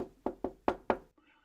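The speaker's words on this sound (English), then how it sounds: "Knocked at the door of an inn." Four sharp knocks land on a door in an even rhythm, close and distinct, followed by a faint muffled sound as the knocking stops.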